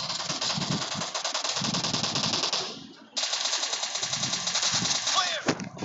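Rapid automatic gunfire from a PUBG or Free Fire battle game rattles loud and continuous, breaking off briefly midway before resuming, with a player talking over it.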